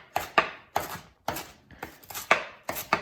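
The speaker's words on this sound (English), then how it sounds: "I'm going to just chop this up pretty roughly" A knife roughly chops vegetables on a board in sharp, close strokes, about eight or nine uneven chops, some landing in quick pairs.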